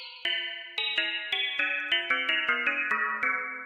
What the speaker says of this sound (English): The top one is a modal resonator, modal synthesis to simulate strings and plates.